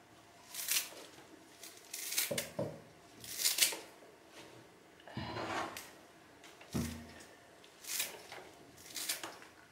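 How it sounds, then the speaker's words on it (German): Scissors snipping carrot greens into smaller pieces in a home kitchen ahead of blending a smoothie, a series of separate close, crisp cuts and rustles spaced about a second apart, with no talking. "Ich mache das immer mit der Schere ein bisschen kleiner, weil dann tut sich nämlich der Mixer leichter."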